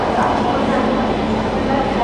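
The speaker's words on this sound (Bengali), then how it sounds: "ওই যে ট্রেন ঢুকেছে" The Gour Express, train 13154, pulling into Malda Town station at night, making a steady, loud rumble of rolling wagons that carries on without a break.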